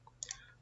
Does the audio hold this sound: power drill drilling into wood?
no